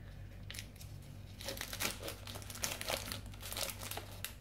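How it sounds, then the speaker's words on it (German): Crinkling plastic packaging as a new insulin pump reservoir is unwrapped, with a quiet stretch first and then steady, close rustling and crackling bursts with no voices. "ein neues Reservoir, das können wir auch eigentlich gleich schon mal auspacken"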